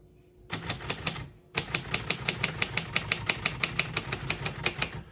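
A 1965 Royal 890 portable typewriter being typed on: two quick keystrokes, a short pause, then a long, steady run of sharp, even clacks close to the microphone.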